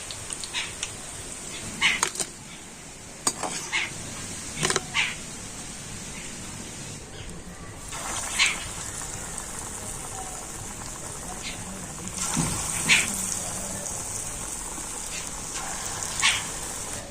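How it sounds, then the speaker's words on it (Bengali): Pakoras deep-frying in hot oil and being lifted out, a steady crackling hiss with scattered sharp clicks and clinks, close and fairly constant throughout. "এইভাবে কিন્তু ভেজে আমি তুলে নিচ্ছি"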